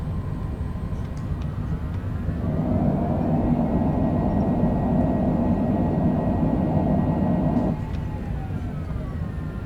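Cessna cockpit during descent and landing in a gusty crosswind at Kansas City, with a steady engine and airflow drone that swells louder in the middle and then eases back, heard continuously with no talk.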